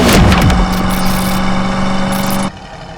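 A restored 1972 Chevrolet Camaro RS/SS with a numbers-matching 350 V8 and automatic transmission rumbles loudly and close by, its tone dipping at the start, then holding steady before cutting off sharply after about two and a half seconds.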